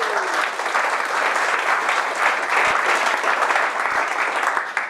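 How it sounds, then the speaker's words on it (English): A steady, dense round of applause from the audience at a software testers' meetup, loud and continuous for about five seconds with no talk over it. "So a round of applause for you guys."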